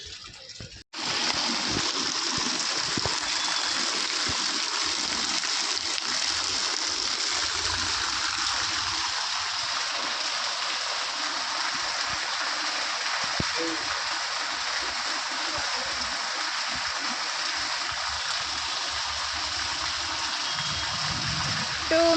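Heavy evening rain driven by strong wind over a house terrace, a dense steady roar that starts abruptly after a brief quiet moment and continues loud and unbroken throughout.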